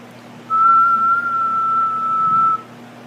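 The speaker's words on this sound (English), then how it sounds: "can you whistle?" A single sustained whistled note, steady in pitch and held for about two seconds, close and fairly loud against quiet background.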